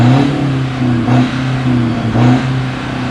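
A car engine with a remap and straight-pipe exhaust revs up and down in neutral in several loud bursts, close by, with no talking.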